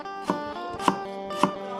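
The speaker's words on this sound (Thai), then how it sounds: "ต้องมาหั่นผักไปเลยหั่นตะไคร้เพื่อจะตำเครื่องนะครับ" A knife chops lemongrass three times at an even, unhurried pace on a board, each cut a crisp thud over a steady background hum.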